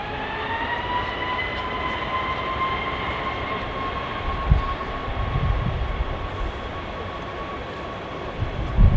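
An Aer Lingus Airbus A321neo jet takes off at Manchester Airport with a steady roaring drone and a sustained whine on top. Faint low thumps of wind or handling noise break in now and then.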